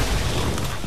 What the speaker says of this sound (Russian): Держите гранату, сейчас взорвется.